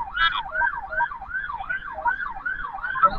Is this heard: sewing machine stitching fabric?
no